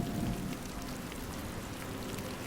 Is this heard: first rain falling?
yes